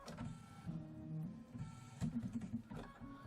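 A Kimberbell embroidery machine stitches a pillow wall hanging, a steady mechanical hum with rapid needle chatter that swells and dips in short bursts, close and continuous with no talking.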